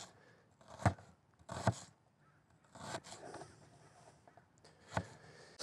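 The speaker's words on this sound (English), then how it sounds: "we'll just cut up some thin onions" A stainless steel knife slices onions thinly during a camp breakfast, making a few separate crisp cuts with short pauses between them, close by and fairly quiet.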